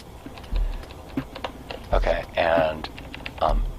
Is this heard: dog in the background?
no